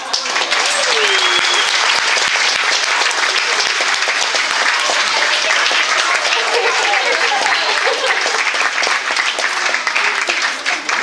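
A wedding audience claps and cheers after a sibling's speech, with dense, loud, continuous applause and scattered whoops throughout.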